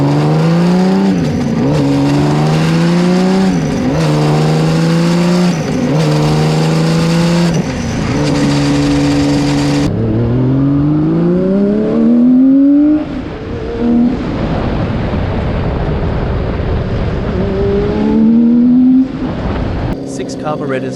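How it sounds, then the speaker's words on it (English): A Honda CBX 1000 six-cylinder motorcycle with six carburetors revs repeatedly, its engine note rising and falling through several loud close throttle blips, then climbing through gears on longer accelerating runs. "Six carburetors gasping for air."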